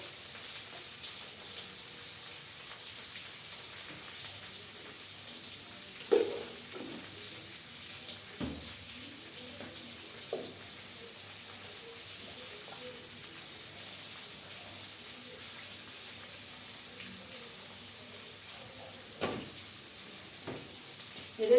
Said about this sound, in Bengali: আমি এটাকে ভালো করে কষাবো, নুন দিয়ে দেবো, হলুদ দিয়ে দেবো